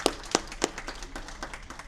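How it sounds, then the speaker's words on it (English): Applause from the student athletes at a college athletics awards banquet: a few loud, distinct claps standing out over a steady patter of lighter clapping from the group, continuing throughout. "So you all deserve a big round of applause for that."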